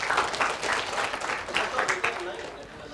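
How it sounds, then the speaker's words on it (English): Brief audience applause at a sports performance talk, a moderate patter of clapping across a room that swells and eases over a few seconds, with voices mixed in. "Round of applause for..."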